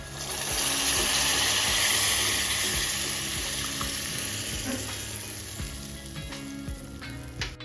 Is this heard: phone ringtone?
no